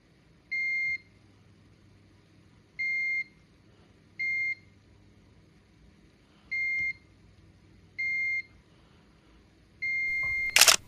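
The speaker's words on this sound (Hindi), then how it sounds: "इस कैपेसिटर पे मुझे दोनों तरफ बीप मिल रहा है।" A multimeter on continuity mode beeps while testing a capacitor on a phone board. Six clear, steady electronic beeps come at irregular intervals over faint background hiss, with a louder clatter at the end.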